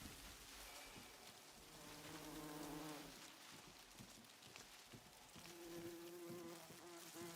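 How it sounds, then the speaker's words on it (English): Fireflies buzzing near trees at night in the space game Star Citizen, a steady insect-like drone of overlapping hums and tones that carries on without a break, close and fairly loud, with no talking. "if you go up to one of the trees you might be able to hear them buzzing"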